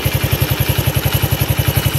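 A 1991 Honda CT70 motorcycle engine idles close by, a loud, fast, even putter of regular pulses that holds steady throughout.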